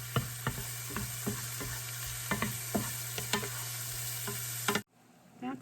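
Mushrooms sizzle in a frying pan for garlic mushroom pasta, a steady hiss broken by sharp scrape-and-stir clatters every half second or so, cutting abruptly to near silence at the end.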